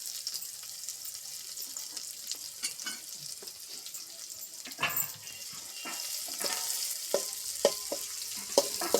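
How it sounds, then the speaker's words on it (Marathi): Garlic and ginger paste frying in a pan for a tempering, with steady close sizzling and scattered stirring clicks and scrapes throughout, no voices. "हे बघा आता जवळपास तळलेलं आहे लसूण अद्रक त्यांची पेस्ट"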